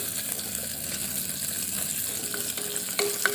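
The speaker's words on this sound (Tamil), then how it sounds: "இப்போ வெங்காயத்தை நான் போட்டு அதையும் நல்லா சாட்டே பண்ணிடலாம்" Onions sautéing in a clay pot for a Thanjavur-style fish curry give a steady, close sizzle with soft stirring scrapes and a few sharper clinks near the end; no one talks.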